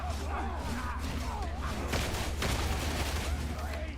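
Rapid gunfire bursts crackle through the Darktide video game action, dense and continuous over four seconds, with a voice talking over the shooting.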